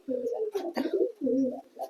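Pigeons in a breeding loft, including a red English magpie, coo close by in two short throaty bursts.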